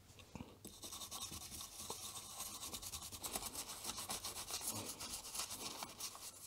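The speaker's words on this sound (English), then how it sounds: "Only one thing remaining, and that is a little bit of a cleaning of the PCB." Brush scrubbing a small circuit board during cleaning, a quiet, rapid back-and-forth rasping strokes repeating steadily up close.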